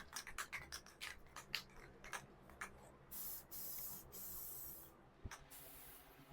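Rust-Oleum Laurel Green spray paint hisses from an aerosol can onto a metal Christmas tree in long, steady bursts. Short scratchy sounds come first, then several sustained sprays with brief pauses between them.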